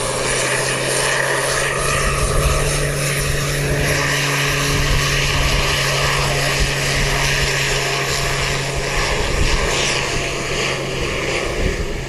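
A propeller airplane at Wellington Airport departing for Westport, a loud, close, steady drone with strong humming tones and a throbbing beat that holds unbroken throughout, with no voices.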